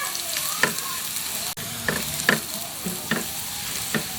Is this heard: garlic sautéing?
yes